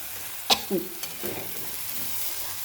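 Rice stirred into masala in a pan gives a steady frying hiss with a sharp utensil scrape early on, followed by softer scraping strokes.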